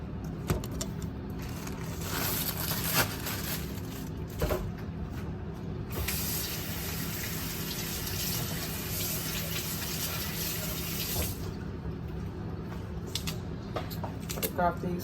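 Water runs steadily from a kitchen tap while a turkey is rinsed under it, a continuous spraying hiss with occasional clatter, and people talk over the flow.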